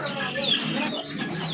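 A fighting rooster, a man-fighter type, gives soft, close clucks over a low background hum, with a faint voice nearby.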